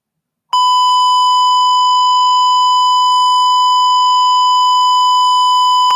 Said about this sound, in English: Sorry for the wrong beep.